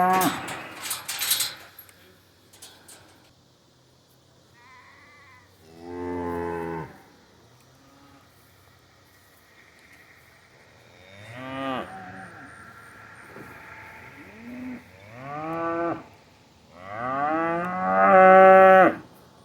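Cattle on a farm, a heifer among them, give several long, drawn-out moos at uneven intervals over quiet background, some near and loud, others softer.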